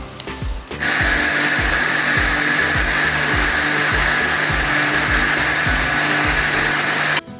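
A grinder blends onion paste for butter chicken, starting with a loud, steady motor whir that holds at full strength for several seconds and then cuts off abruptly.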